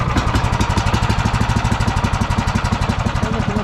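A warmed-up vehicle engine idles steadily after starting, a close, loud, even mechanical chug with a fast regular pulse and no change in pitch throughout.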